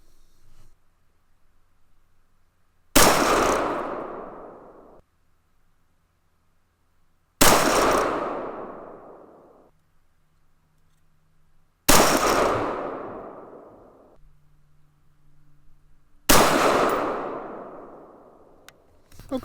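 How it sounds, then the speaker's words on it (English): Four loud, sharp rifle reports firing M855A1 ammunition at an outdoor range, spaced roughly four to five seconds apart, each followed by a decaying echo into quiet. "Okay, 5 more shots."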